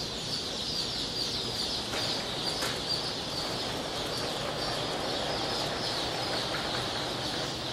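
Chicks and chickens at a hatchery keep up a steady, dense chorus of high peeping and clucking, close and continuous throughout with no talk.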